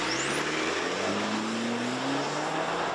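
A 2023 Chevy Colorado Trail Boss with a turbocharged four-cylinder engine accelerating hard, its loud, continuous engine roar climbing in pitch and carrying a rising turbo whistle.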